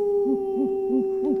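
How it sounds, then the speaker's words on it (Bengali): An owl hoots outside at night after a storm, four evenly spaced, mellow calls repeating in a steady rhythm over a faint background hum, with no voices. "প্যাঁচার ডাক শোনা যাচ্ছে।"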